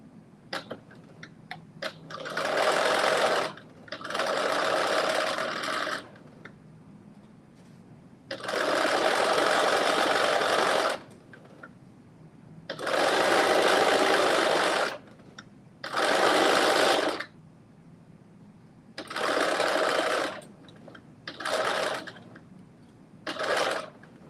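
Home sewing machine running a regular stitch at 2.5 length, a series of about ten close, loud whirring bursts of varied length separated by short pauses.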